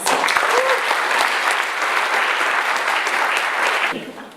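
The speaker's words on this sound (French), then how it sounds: "Et sous un tonnerre d'applaudissements," Audience at a sustainable-entrepreneurship awards night breaks into sustained, loud applause with scattered cheers, steady for about four seconds before fading.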